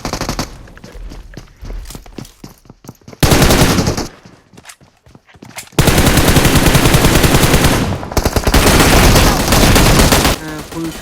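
Automatic gunfire in a PUBG Mobile match, long loud sustained bursts of rapid shots broken by quieter stretches of footsteps and softer shooting, with a voice talking at times.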